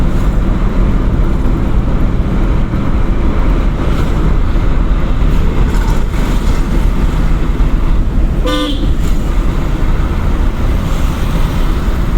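Constant loud road traffic rumbles throughout, heard from inside a driving-school car, with a single short car horn toot sounding briefly near the end.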